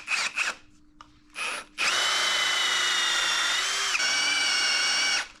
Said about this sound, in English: Next step is to get a hole drilled in